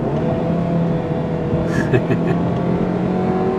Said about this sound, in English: you can shift with the paddles, and as you hear there, very nice downshifts